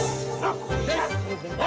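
Dogs bark and yip in the road, several short sharp calls in quick succession, close and loud, over a steady background hum.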